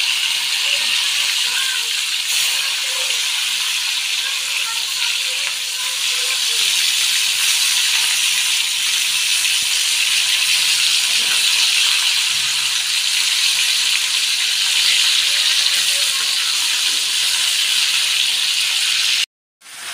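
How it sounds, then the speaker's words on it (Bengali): Pieces of fish rubbed with salt and turmeric fry in hot oil, giving a steady loud broadband hiss that runs unbroken for the whole stretch, with a faint voice underneath early on. "লবণ হলুদ ভালো করে মাখিয়ে নিয়েছি, এবার ভেজে নেব মাছগুলো।"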